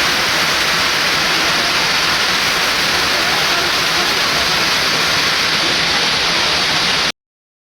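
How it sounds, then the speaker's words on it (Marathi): Heavy rain pours down in a dense, unbroken roar that holds loud and steady throughout, then cuts off abruptly at the end. "खाली जायला निघालो आणि पावसाने चांगल्या झोळी टाकत घेतल्यात खूप जोरात."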